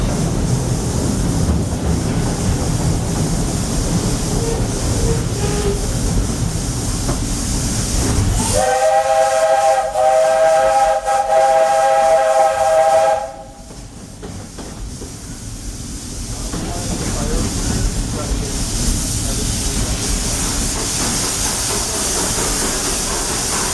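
A Walt Disney World Railroad steam locomotive sounds a loud, sustained whistle for several seconds over constant steam hiss and rumbling train noise, which drops quieter afterward before chugging resumes.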